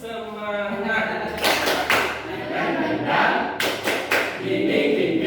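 A group of teachers does the rhythmic Indonesian spirit clap, tepuk semangat, with several sharp, loud claps in short bursts, interleaved with people talking.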